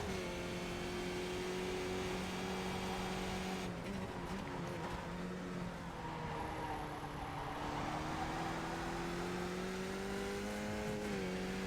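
A race car engine held high in the rev range in third gear, a loud sustained droning whine that holds steady, dips briefly and climbs again, with no talking.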